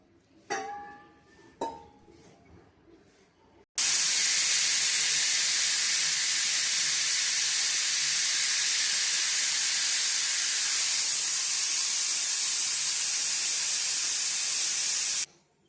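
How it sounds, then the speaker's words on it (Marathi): Pressure cooker on a gas stove while cooking a Bhogi vegetable dish: two brief tonal whistle-like squeals with clinks at first, then a sudden loud, steady steam hiss that runs for about twelve seconds before cutting off, close by. "आता आपल्या कुकरची शिट्टी झाली आहे."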